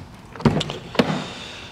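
Rear power window on a 2009 BMW 750Li sedan, two short motor whirs with a brief pause between, heard up close inside the cabin with no talk.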